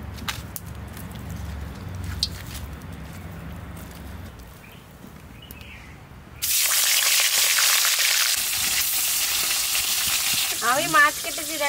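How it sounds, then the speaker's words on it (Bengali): Rohu fish, rubbed with salt and turmeric, dropped into hot oil in a wok; after quiet kitchen sounds, a loud continuous sizzle and spatter of frying begins and keeps going close up. "মাছটাকে ভাজবো।"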